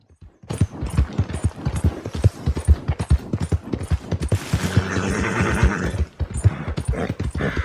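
Hoofbeats of a Mahogany Bay Tennessee Walker galloping in a video game, a fast steady clip-clop close up and loud, with a brief whinny and rushing wind midway before the pounding resumes.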